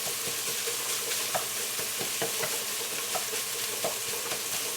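Bacon and sausage fry in a pan, a dense continuous sizzle with scattered pops and spatter, close and steady without any talk.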